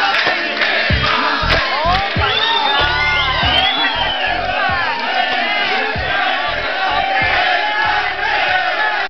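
A crowd at an evangelistic gathering cheers loudly and steadily, with whoops, shouts and rising yells piling over one another, plus a few sharp claps in the din as Betty is called to the front.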